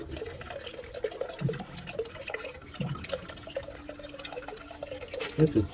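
Live worms for aquarium fish food get rinsed under running tap water, giving a steady splashing, trickling wash with brief louder gurgles near the end and faint voices in the background.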